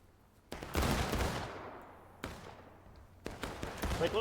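Musket volleys from a Civil War battle video game sound as three separate sharp cracks, each one trailing off into a rolling echo, heard from a middle distance with no talk over them.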